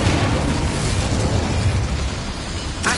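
A fiery Incendio spell blast in the video game Hogwarts Legacy, a loud, roaring burst of flame that sustains as a dense whoosh for a few seconds, ending with a brief crackle.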